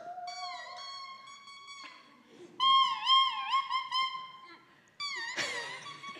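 A bare oboe double reed blown alone, producing high, thin squeaks and crowing tones in several short bursts with pitch bends and pauses, close and unaccompanied.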